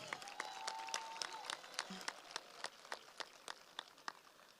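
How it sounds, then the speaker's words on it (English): A high school graduation crowd applauds for parents and guardians, many hands clapping in a thick steady patter that thins toward the end, leaving a few louder separate claps. "We should also give our parents and guardians a round of applause."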